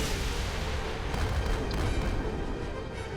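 Heavy gunfire from a Halo ship firing at an enemy ship in the Roblox game Project Stardust, a dense continuous rumble of booms that holds steady for a few seconds, loud and close.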